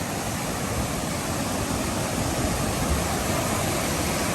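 Thooval waterfall in Idukki, Kerala, water pouring over rocks as a dense, unbroken roar that is loud and close and continues for the whole stretch, with no voices.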